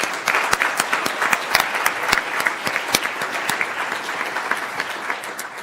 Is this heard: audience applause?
yes